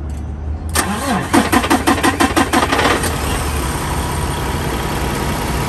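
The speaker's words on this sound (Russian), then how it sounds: "Сейчас мы, наверное, его попробуем завести." A semi truck for sale in the USA cranks with a fast rhythmic starter whir for about two seconds, then catches and settles into a loud, steady diesel idle close by.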